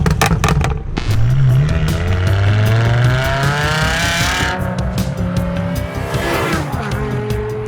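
A sports car engine revs hard with rising and falling pitch while tires squeal loudly through sustained skids, close and continuous.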